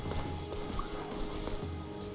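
Rapid clip-clop hoofbeats of a galloping horse in Mordhau over a busy, steady game soundscape, with low rumbling underneath.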